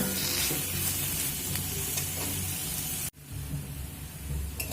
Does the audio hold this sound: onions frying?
yes